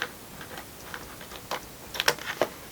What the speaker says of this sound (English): for that I've got some scissors here. We'll just chop those off.